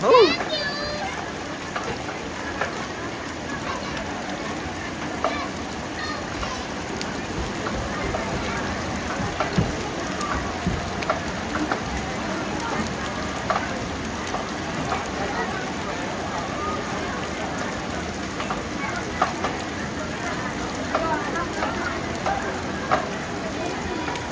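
Steady rain falls outdoors during wedding preparations, a dense continuous patter and hiss that holds level throughout. Voices speak faintly underneath it.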